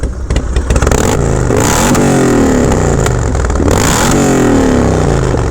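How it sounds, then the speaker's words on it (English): A nearby carbureted motorcycle engine revs up sharply several times, pitch sweeping upward then falling back, loud and rough. "Get some revs in there."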